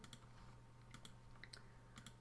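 Several quiet keystrokes on a computer keyboard, arriving in short clusters of clicks over a low steady hum, during a maths lesson on polynomial equations.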